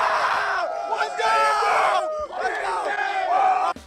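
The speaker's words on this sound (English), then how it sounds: "let's start this video with some college guys screaming" A crowd of college guys screams and yells together, loud and close, in two long sustained bursts of shouting with a brief dip between them.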